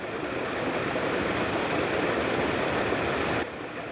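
Loud, continuous roar of a muddy mountain stream pouring downhill in heavy rain, steady throughout with no voices.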